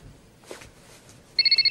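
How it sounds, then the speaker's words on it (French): A mobile phone suddenly starts ringing with a rapid, pulsing electronic tone, loud and close, after a stretch of quiet rustling with no talk. "Il doit avoir un portable."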